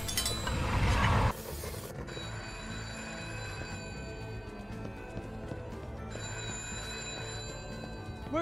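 Telephone ringing in the Minimum Wage Simulator video game, a steady repeated ring lasting several seconds after a brief loud burst at the start.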